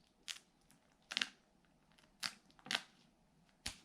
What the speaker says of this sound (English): and cutting the comb away